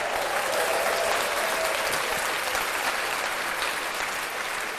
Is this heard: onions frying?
no